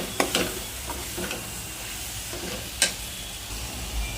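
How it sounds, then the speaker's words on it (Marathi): Fenugreek leaves stirred in a hot pan for methi mathar bhaji, a soft continuous sizzle broken by a few sharp scraping clicks of the spatula. "आता आपण यात मेथीची भाजी टाकूया। चांगलं हलवून घेऊया।"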